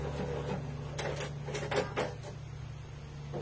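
A sewing machine runs a short finishing stitch. A handful of quick, rattling mechanical bursts sound over a low steady hum, then it settles back to quiet.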